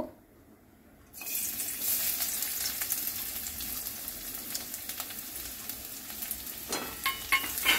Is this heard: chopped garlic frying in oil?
yes